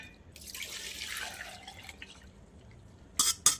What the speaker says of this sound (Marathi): आता ही जी शेंगाचा रस आहे का आपण ह्या पातेल्यात काढून घेऊयात